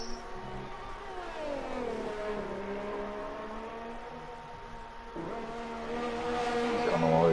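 A race car engine in a sim racing game drones and climbs in pitch, dipping briefly before building again, heard steadily under a commentator's voice.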